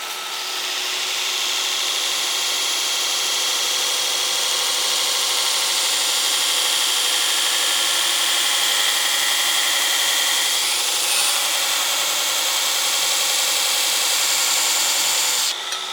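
Shop Master 72-inch belt grinder roughing the back side of a knife blade, a steady loud abrasive hiss and whir holding constant for the whole stretch with only slight shifts in pressure, no voices over it.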